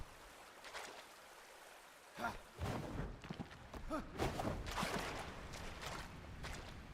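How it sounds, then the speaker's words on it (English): Rushing water flows in the survival game Enshrouded, a steady broadband wash with thumps and sloshing surges building partway through and continuing to the end. "Now the water's coming over."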